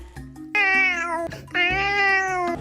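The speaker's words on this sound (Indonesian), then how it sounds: "Ia mengeong pelan, berharap ada yang mendengarnya." A cat gives two drawn-out, clear meows in a row, each rising and then holding steady, close by with a low hum underneath and no other voices.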